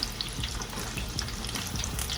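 Deviled eggs fry in a skillet with a steady close sizzle and crackle, with small spatters and soft stirring clatter throughout.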